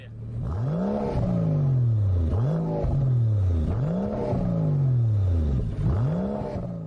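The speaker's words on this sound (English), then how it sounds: "Let's hear how V12 sounds." A V12 engine recorded close to the exhaust pipe revs hard four times in a row, each pull rising in pitch and then falling back, loud and resonant with no talk.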